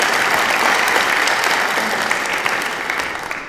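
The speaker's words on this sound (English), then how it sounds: "I think a round of applause is in order there." A church congregation claps together in a steady, dense round of applause that fills the space evenly, then tapers slightly toward the end, with no talking over it.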